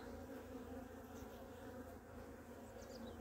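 Honey bees in an opened hive during an inspection, a dense, steady, faint buzz of many insects droning continuously without any voices.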